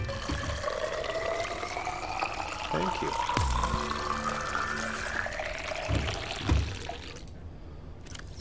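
Water pours and fills in the video game Subnautica, a rising liquid gurgle that climbs steadily in pitch over several seconds. Game sounds and voices are heard alongside it.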